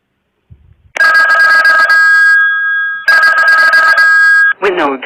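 A phone plays a custom Hindi ringtone: two long, loud tonal ringing phrases, each led by a ringing bell pattern, with a short synthetic spoken voice calling a name to pick up the call at the end.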